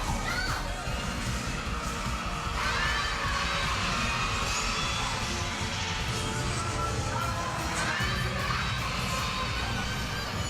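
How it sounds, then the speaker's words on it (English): Children at a Japanese tokusatsu hero show crowd together cheering and shouting, a dense, steady roar of young voices filling the whole stretch with brief excited peaks. "Children cheer the heroes on with their whole hearts at events around the country"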